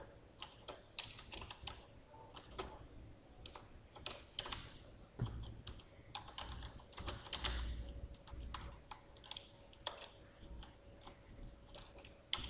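Rapid, irregular clicking of computer keyboard keys while C++ code is typed, close and steady with brief pauses between bursts, no talking.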